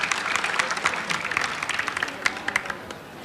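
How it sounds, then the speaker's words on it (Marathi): An audience at a Marathi political speech claps steadily and densely, loud and close, with a crackling wash of hands that holds for the whole stretch without a break. "टाळ्या झाल्या पाहिजे, टाळ्या झाल्या पाहिजे।"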